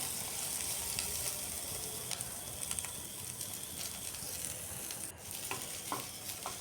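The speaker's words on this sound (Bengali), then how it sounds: "পেঁয়াজ, কাঁচা লঙ্কা এগুলো ভাজা হয়ে গেছে।" Onions and green chilies fry in a pan for an egg and pointed gourd curry, giving a steady close sizzle with occasional stirring scrapes and faint crackles throughout, with no talking.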